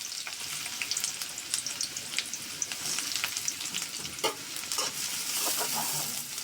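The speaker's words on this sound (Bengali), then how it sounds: "তেল গরম হয়ে গেছে, পেঁয়াজ দিয়ে দিলাম।" Onion sizzles in hot oil in a wok for a curry of Satkhira tangra fish with eggplant, a soft continuous frying hiss broken by small pops and crackles.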